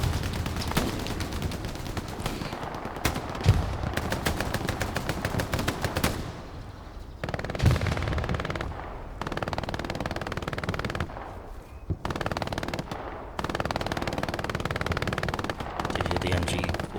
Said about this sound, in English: The MG42 blaring there.